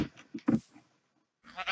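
Sheep bleating in Minecraft, a short wavering bleat followed by a brief pause and another starting, close and clear with no talk.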